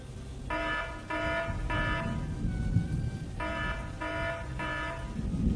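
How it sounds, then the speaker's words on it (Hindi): An electronic alarm rings in three short bursts, pauses, then rings in three more bursts, loud and steady over a low rumbling background. "अचानक केबिन के अंदर एक अलार्म बजता है।"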